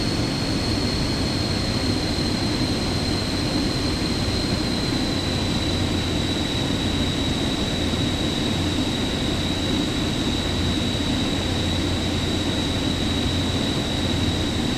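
Steady, even airliner engine and airflow drone inside a Ryanair jet on approach for landing in Microsoft Flight Simulator 2024, with the gear and flaps down. A constant high whine sits over the low rumble, loud and unbroken throughout.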